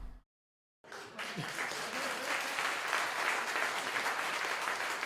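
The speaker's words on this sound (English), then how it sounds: "Don't clap, I'm not finished." After a short silent gap, applause rises and holds steady during a livestream, a dense, fairly even wash of clapping from an audience.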